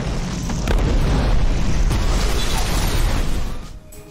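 A van blows up in a parking lot in a movie scene, giving a loud, sustained roaring blast that rumbles for over three seconds before dropping away, with no voices.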